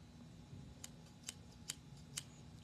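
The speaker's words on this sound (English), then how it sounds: "We have some fabulous pink folding scissors." New pink folding scissors, still a little stiff, being folded up, giving four faint, crisp clicks spaced roughly half a second apart over a quiet background hum.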